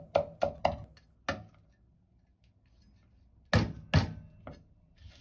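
A knife chops smashed ginger and scallion on a board, with a quick burst of three sharp strikes, a lone chop, then a pause before three more close, crisp hits.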